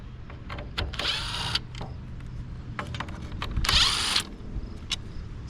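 Prying a plastic bezel off the interior of a rollback tow truck under restoration, with clustered creaks, clicks and two longer scraping bursts close to the microphone.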